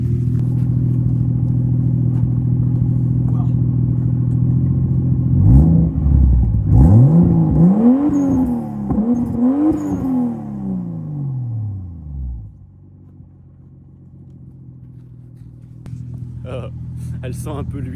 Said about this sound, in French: Je vais vous faire écouter le son à l'échappement.